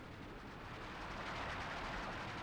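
An artillery barrage falls on panzer headquarters in Company of Heroes 2, producing a continuous dense roar of distant shelling and rumbling blasts with no distinct separate impacts.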